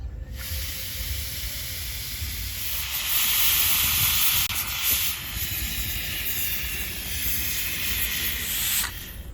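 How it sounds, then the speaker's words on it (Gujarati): Steam hissing steadily from a pressure cooker while dal boils with turmeric, a loud sustained whistle-like rush lasting several seconds before cutting off near the end. "4 થી 5 વિસલ થવા દઈશું અને દાળને બફાવા દઈશું।"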